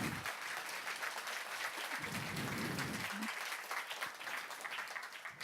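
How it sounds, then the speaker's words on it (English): An audience in a forum hall breaks into applause, a steady wash of many hands clapping at moderate distance for several seconds, with faint murmurs underneath. "This would be a good time to clap,"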